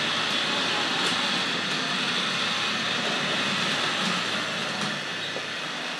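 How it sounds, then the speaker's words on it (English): Hornby Dublo A4 Pacific model locomotive running on track with a steady whirring motor whine and hollow rattle from its metal bodywork, close and continuous with faint clicks. "Lovely whine from the locomotive, very echoey bodywork."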